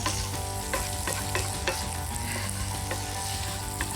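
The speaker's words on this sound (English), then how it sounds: "In goes that mussel flesh. And we'll just cook it through with the bacon." Mussel flesh frying with bacon in a pan makes a loud, dense sizzle, with occasional crisp pops and stirring scrapes throughout.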